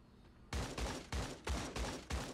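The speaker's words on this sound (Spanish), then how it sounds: "Hay disparos, yo no puedo creer." Rapid bursts of gunfire in the video game Creative Destruction, about four or five heavy sustained volleys, loud and close, with no voices.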